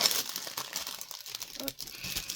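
Packaging of an ordered nail brush being opened by hand, with crinkling, crumpling plastic and tearing close by in irregular bursts.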